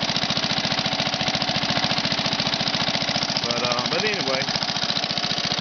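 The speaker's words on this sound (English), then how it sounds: "Good running little motor." The Briggs engine on a 1962 Sears push mower runs loudly and steadily with a fast, even chugging putter. Someone speaks briefly over it.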